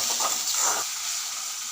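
Onion and tomato sizzle in a hot pan while liver fry is being cooked, a soft steady hiss with some faint stirring at first, quiet and close.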